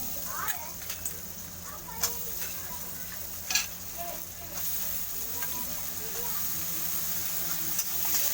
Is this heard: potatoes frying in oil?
yes